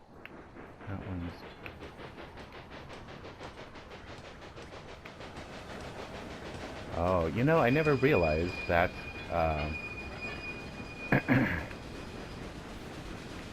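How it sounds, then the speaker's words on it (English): A freight train runs in a prairie railway video game, giving a steady low rumble with clickety-clack under a voice. "that is a freight train"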